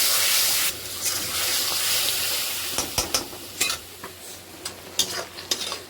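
Vegetables with turmeric and a splash of water being stirred in a hot pan, a steady sizzle and hiss with spoon scrapes becoming more frequent toward the end, close and clear with no talk.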